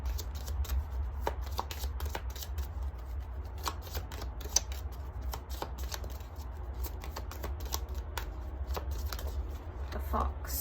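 Tarot cards being shuffled for a pick-a-card reading, a steady run of crisp riffling and snapping strokes close to the mic, over a constant low background hum.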